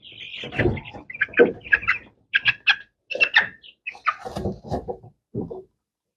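Young Ross 708 broiler chicks at about two weeks old give repeated short peeping, clucking calls in quick bursts, close to the microphone, with brief pauses between the groups of calls.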